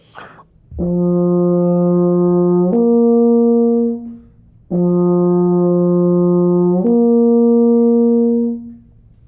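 A euphonium plays lip slurs: two sustained low notes, slurring upward between them, then repeats the same pair after a short breath.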